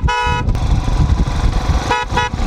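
A vehicle horn honks twice on a mountain road with blind curves in the Himalayas near Hikkim and Lanza: two loud, close blasts about two seconds apart, over a rumbling engine.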